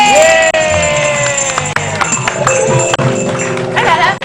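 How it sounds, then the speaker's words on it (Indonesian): Loud studio audience cheering and clapping on an Indonesian TV talk show, with whoops and background music running underneath. "Tepuk tangan sekali lagi"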